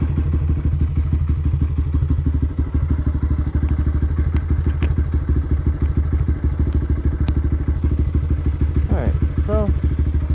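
Motorcycle engine running on a test ride, a loud, steady low rumble with rapid pulsing beats throughout and a few faint higher chirps near the end.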